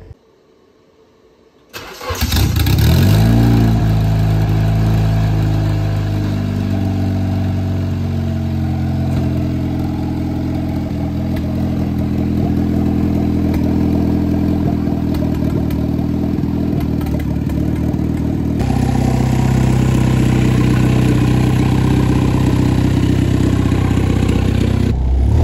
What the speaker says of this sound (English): So let's give it a crank and see if it starts.